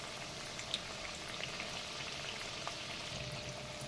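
Bengali fritters (bora) with drumstick leaves frying on one side in hot oil, a steady soft sizzle and bubbling with a few faint pops, close and even throughout with no talk.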